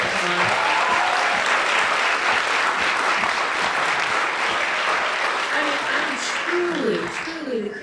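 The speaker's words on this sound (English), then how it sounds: "let's give everyone a huge round of applause" An audience applauds pitch competition presenters, loud sustained clapping from a packed room that begins to thin near the end as a voice starts speaking.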